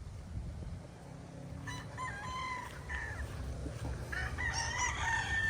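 Young chickens in an outdoor range area chirp and call in short bursts over a low rumbling background, with a rooster-like crow rising among them, moderately near and without talk.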